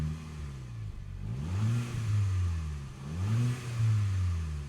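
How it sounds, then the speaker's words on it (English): Audi A3 S-Line petrol engine rated at 197 horsepower, revved twice while parked: two rising and falling swells above a steady idle, close and clear, with no talking. "Give it a little rev just so you can see that it revs fine."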